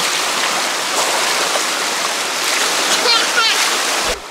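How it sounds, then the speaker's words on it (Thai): Water pours from a hotel into a natural riverside swimming pool beside the Khwae River in Kanchanaburi, a loud, close, continuous rushing and splashing. "ที่โรงแรมนี้น้ำไหลออกมาแล้วเขาทำเป็นสระว่ายน้ำเจ๋งมาก"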